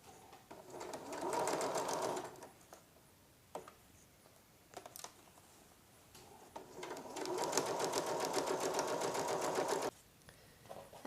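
A sewing machine stitches a dress armhole in two fast, steady bursts with a pause of quieter handling noises between them.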